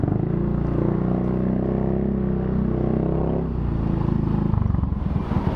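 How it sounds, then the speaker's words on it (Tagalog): A motorcycle engine running close by with a steady low drone, turning into a rapid loose rattling toward the end, as if a part is shaking free. "Parang may mababakla sa motor ka."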